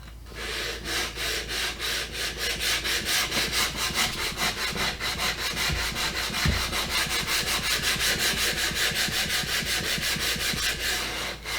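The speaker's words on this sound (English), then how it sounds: "So now you just sand it a little more. Sand it again." A wooden gun stock being hand-sanded during refinishing: steady, fast back-and-forth rasping strokes that repeat evenly and stay close and continuous throughout, with no voice over them.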